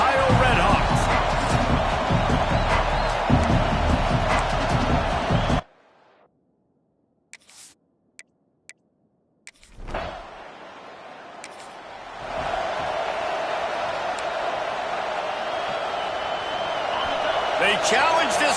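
Loud, dense roar of a big stadium crowd at a college football game in Memorial Stadium in Lincoln, Nebraska, cut by a few seconds of near silence with scattered clicks, then swelling back with a commentator talking over it.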